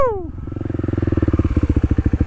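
A Kawasaki KLX300 dual sport motorcycle on a muddy rainy trail settles from a falling rev into a close, loud, pulsing thump, its single-cylinder beats slowing into a steady rhythmic chug.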